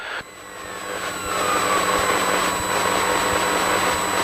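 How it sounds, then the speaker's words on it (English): Piper Cherokee 180 light aircraft engine running steadily, its drone swelling slightly in loudness then holding at a constant level as the throttle is worked, close and continuous with no talk. "we'll then go down to idle, we'll check our idle."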